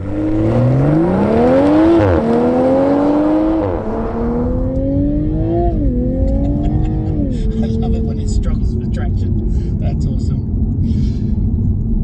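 A 2021 Toyota GR Supra Limited Edition A91 sports car accelerates hard, its engine note climbing through rising revs and gear shifts before settling into a steady cruising drone, loud and close from inside the cabin.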